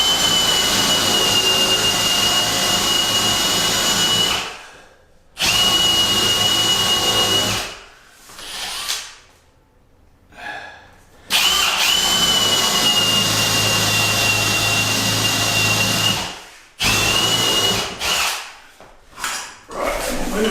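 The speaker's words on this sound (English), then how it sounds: "and then drill from the other side" A power drill bores holes into a hardwood door for fitting a rim lock, loud whining bursts of drilling broken by short pauses, close up.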